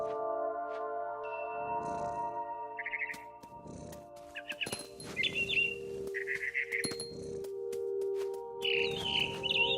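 Birdsong from a mother bird perched in a big tree in the game What Remains of Edith Finch, with several short chirps and trills spaced through the scene over a steady ambient game drone.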